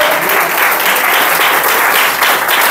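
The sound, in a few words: congregation applauding in church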